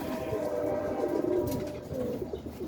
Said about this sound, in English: Taking a look at the birds after feeding them.